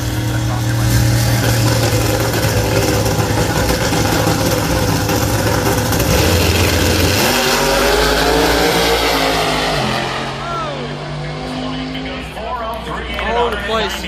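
Pro Mod drag racing cars on 10.5 tires at an eliminations event, engines roaring loud and continuous, then a shift in pitch as the cars launch and the sound thins and recedes.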